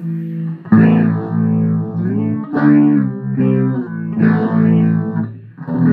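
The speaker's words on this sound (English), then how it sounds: "Get the phaser going." An electric guitar through the phaser effect of a Joyo DC-15 amp plays sustained chords with a sweeping, swirling tone that rises and falls, loud and alone.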